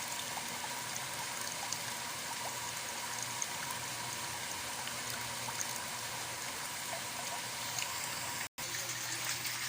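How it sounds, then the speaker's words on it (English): Water drains steadily from a siphon outlet into a nursery tank, a continuous broadband trickling and rushing wash that holds through the clip with one brief dropout near the end. "here's the outlet from the siphons coming into the tank. So we can see that it is draining"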